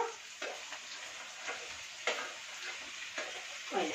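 Tomato and onion frying together in a pan, a soft steady sizzle with regular scraping strokes roughly every half second, quiet and close with no voices.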